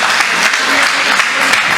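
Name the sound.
audience clapping at Hindi poetry show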